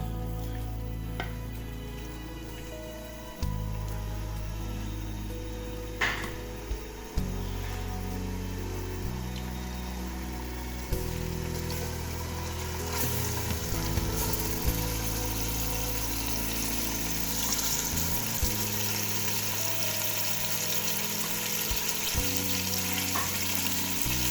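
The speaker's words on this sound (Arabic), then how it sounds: "نحط معاهم شوية بصل يتقلى" Chicken pieces and onion frying in a pan for a traditional Algerian onion and tomato tagine, a steady close sizzle with bubbling that carries on with no voices, shifting in level now and then.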